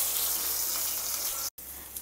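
Soya chunks (meal maker) frying in hot oil give off a steady, bright hiss and sizzle, briefly cut to silence near the end before the sizzling resumes.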